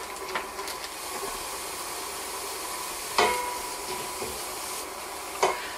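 Diced ham going into melted butter in a pot produces a soft, steady sizzle and hiss, broken by a few sharp clinks and scrapes of stirring, close by and without talk.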